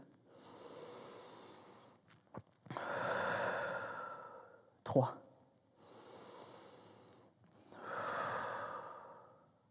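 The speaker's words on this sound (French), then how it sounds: "5 respirations pour relâcher le tout" Slow, relaxing breaths during a mobility stretch, close and soft long inhales and exhales in a calm rhythm, with a short sharp sniff between them.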